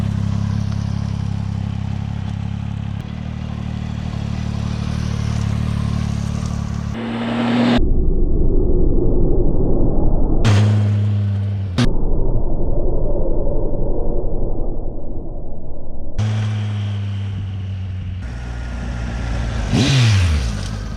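A Triumph Tiger 800 motorcycle ridden on the road: a steady engine drone under strong wind rush, with several gear changes and throttle rises, loud and close throughout.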